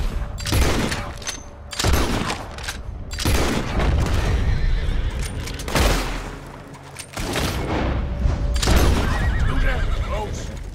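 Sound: horse whinnying in Red Dead Redemption 2 video game

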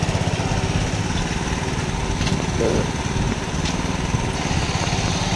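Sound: 7.5 HP diesel power weeder engine running

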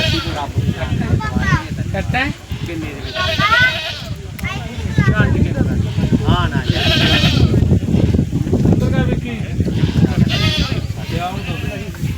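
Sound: goats bleating at a goat market

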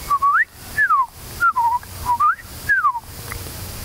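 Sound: whistled imitation of American robin song

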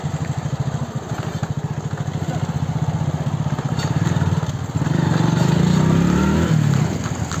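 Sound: motorcycle engine running

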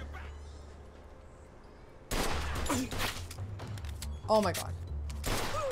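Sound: gunfire in the video game Mafia II Definitive Edition

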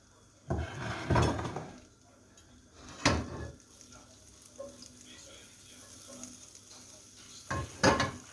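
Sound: butter frying beside sucuk in a pan

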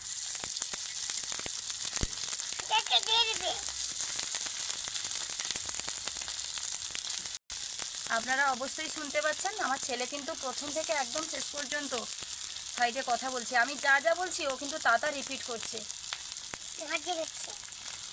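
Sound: rice and potato snack frying on a hot tawa

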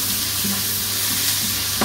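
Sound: frying cumin, kalonji and onion in a pan

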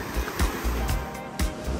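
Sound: ocean waves at Copacabana and Ipanema beach, Rio

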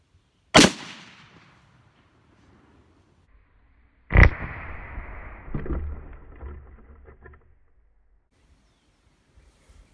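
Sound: gunshot from a .243 rifle

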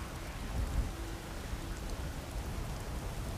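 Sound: rain and thunder in the video game Skyrim

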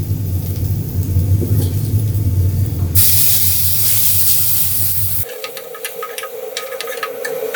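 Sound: onions frying in oil

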